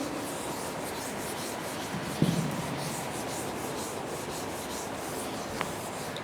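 An eraser rubs writing off a classroom board during a primary-school maths lesson: a steady, continuous scrubbing that fills the whole stretch, with a small knock partway through and no talking.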